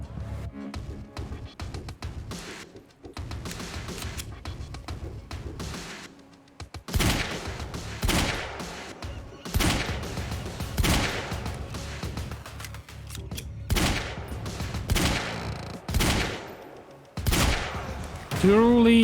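Heavy pistol fire in the Quantum Break video game, a string of single loud shots spaced a second or two apart, each sharp crack standing out over quieter game ambience.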